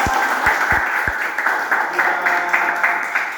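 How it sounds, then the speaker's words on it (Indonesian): A classroom crowd claps in a dense, steady patter of applause that continues throughout, with a few louder thumps near the start. "Tepuk tangan bagi kita."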